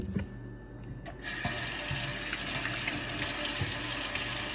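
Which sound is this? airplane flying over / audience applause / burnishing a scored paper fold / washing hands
washing hands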